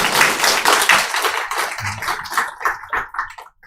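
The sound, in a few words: church congregation applause welcoming a visitor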